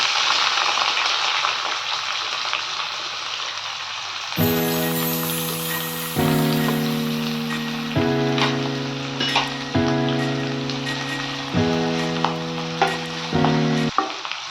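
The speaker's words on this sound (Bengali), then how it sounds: "হালকা বাদামি বাদামি রং হওয়া অবধি পেঁয়াজগুলোকে আমি ভাজতে থাকবো" Chopped onions sizzling in a pan, a steady close frying hiss with repeated scraping stirs; background music plays with sustained tones from the middle onward.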